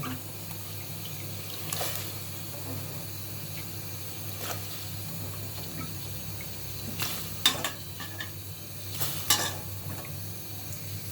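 Cut potatoes sit in a pot of water at a rolling boil, giving a steady, soft bubbling hiss with a few brief clinks and splashes scattered throughout.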